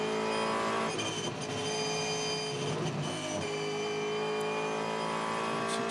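A Supercars race car lapping Bathurst during the 2022 Repco Bathurst 1000, its engine droning steadily and loudly throughout with a brief dip and surge in pitch as it shifts, heard alone.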